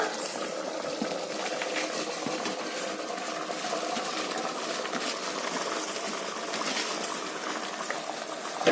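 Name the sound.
water boiling in a cooking pot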